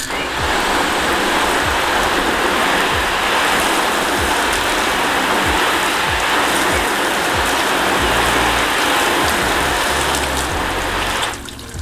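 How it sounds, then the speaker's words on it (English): A garden hose sprays a steady, hissing stream of water onto a car panel freshly coated with sealer glaze, a constant broadband rush close to the surface that cuts off abruptly at the end. "let's grab the hose and have a look at the water repellency"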